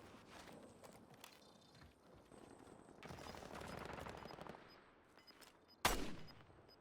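Gunfire in the Warzone battle royale game, a quiet bed of rapid shots and footsteps that swells into a sustained burst before one sharp, loud crack near the end.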